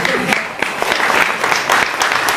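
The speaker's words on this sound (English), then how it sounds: "I think we should give a round of applause to everybody" A church congregation at the Burton Overy Christmas tree festival gives a round of applause, with close, dense clapping that stays steady and loud throughout.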